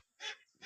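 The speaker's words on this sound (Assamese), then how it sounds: "এইবিলাক অৰিজিনেল পাতি হাঁহ" Domestic ducks give two short nasal quacks a fraction of a second apart, fairly faint and close, with quiet surroundings.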